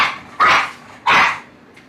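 Dogs bark in two loud, close, sharp bursts about half a second apart, followed by a faint trailing yip, with no voices.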